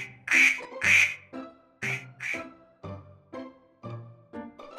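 A mother duck quacks in a cartoon story for children, a loud, close series of about ten harsh quacks in uneven pairs and singles, with no other sound.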